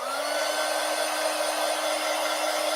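Heat gun running on its low setting while drying a gel plate for crafting, a steady even blowing whir with a constant motor tone, close and uninterrupted, no talking.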